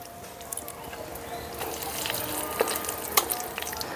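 A torn bay leaf dropped into hot oil in a pan while cooking a vegetarian potato, pointed gourd and paneer curry, giving a faint, steady crackling sizzle with a few small pops, close but quiet.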